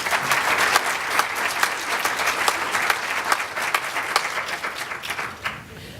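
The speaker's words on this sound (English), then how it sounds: "So let's applaud AB Tech, because I'm proud of them." A crowd at a Stand Against Racism event breaks into sustained applause, a loud, even wash of many hands clapping close by that tapers slightly at the very end.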